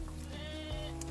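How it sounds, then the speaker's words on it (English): Sheep bleat inside a shed during flock sorting, one clear drawn-out wavering call close by, with a second voice joining near the end. "So when we're sorting the sheep,"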